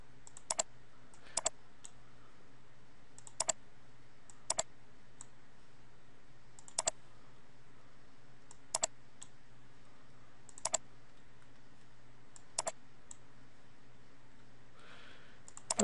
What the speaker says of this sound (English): Let's click the Format Painter and click the next item